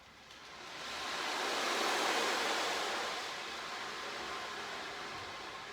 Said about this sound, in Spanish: Las olas que rompen.